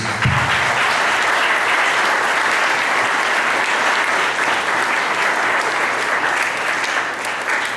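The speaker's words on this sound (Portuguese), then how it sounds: "Quem compreendeu, aplaude ao Senhor Jesus." Loud, sustained applause from a large church congregation, steady clapping filling the space for several seconds without a break, easing off only slightly near the end.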